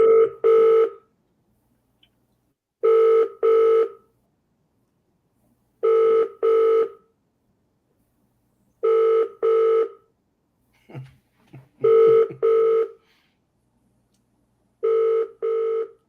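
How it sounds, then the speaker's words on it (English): Pairs of UK telephone ringing bursts repeat at a steady cadence, each double ring followed by a pause, clear and alone with a faint rustle between. "You can tell it's the UK from the dial tone."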